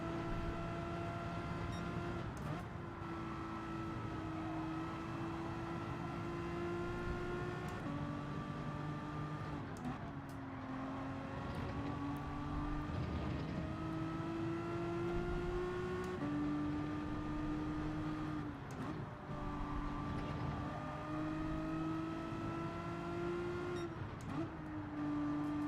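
Race car engine droning steadily while slipstreaming behind a quicker car in Gran Turismo 7, a loud continuous tone that climbs in pitch through each gear and drops at repeated shifts.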